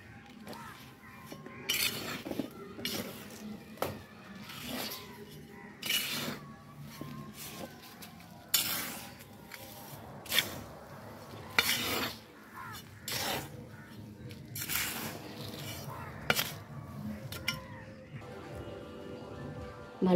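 Potting soil mixed by hand with sand and cocopeat, heard as intermittent gritty scrapes and rustling bursts at close range, separated by quieter pauses.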